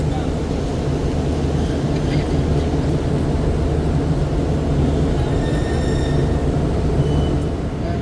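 A passenger train pulls into Okara railway station with a loud, continuous rumble and rolling wheel noise, faint squeals and a horn-like tone rising near the end.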